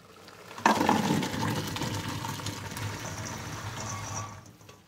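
Boiled beans (pasulj) are poured out of a pot to drain, a sudden rush of water that splashes loudly at first and then settles into a steady, fading pour.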